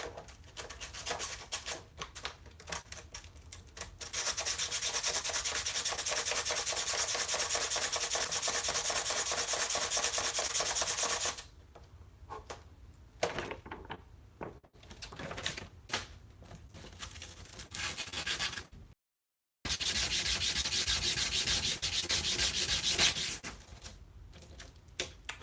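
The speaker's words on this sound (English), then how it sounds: "I just use some sandpaper, folks." Sandpaper rubbed by hand across the body of a BC Rich Mockingbird guitar during a repair, a steady scratchy hiss in long continuous strokes with a few pauses and brief breaks, close and fairly loud with no talking.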